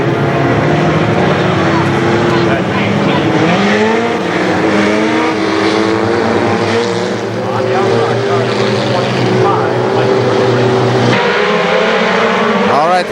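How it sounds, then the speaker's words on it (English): KilKare Speedway mini stock race cars accelerating onto the track at a Labor Day championship, a loud dense roar of several engines revving and rising in pitch together, with a voice talking over the noise. "they pick up the throttle to turns 3 and 4"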